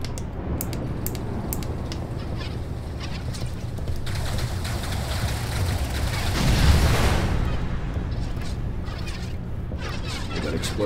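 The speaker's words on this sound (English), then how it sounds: "Well, that explosion was my kill." Explosion of a destroyed enemy ship in the Star Citizen Vanduul Swarm space-combat game, a swelling rumbling burst near the middle of the clip rising over constant engine hum and scattered weapon clicks.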